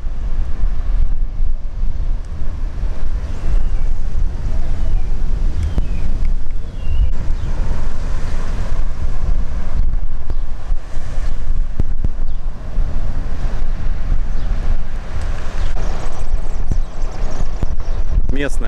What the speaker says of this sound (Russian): Вот это уже Карибский пляж.